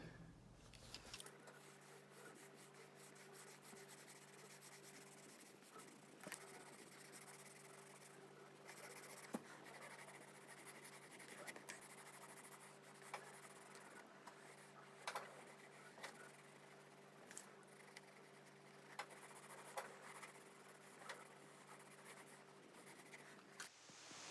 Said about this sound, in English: Now I'm starting with 2B pencil.